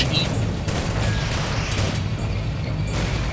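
Machine gun fire in the WWII tactics game Soldiers: Heroes of World War 2, during the Villers-Bocage mission, comes as a dense, continuous rattle of shots mixed with booming battle noise, loud and steady throughout.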